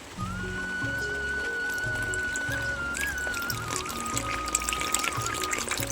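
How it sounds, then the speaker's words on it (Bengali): Water trickles into chapati batter in a bowl, a steady thin pouring stream over a background hum, close and continuous, with a faint tonal whine running beneath for most of the pour. "এতে আমি জল দিচ্ছি"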